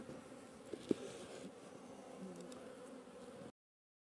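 Honey bees buzz inside small mini nuc hives, a faint continuous hum with a couple of light knocks early on before it cuts to silence.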